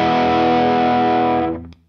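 Gibson Les Paul played through a modded Voodoo Lab Sparkle Drive pedal in lead mode, a single thick, distorted chord ringing out loud and sustained before being cut off abruptly.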